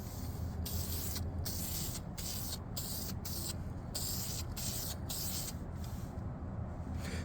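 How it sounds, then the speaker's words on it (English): A spray can of primer hisses steadily and close up as it coats Warhammer terrain, one long continuous burst with no voices. "then you just get a lovely spray primer"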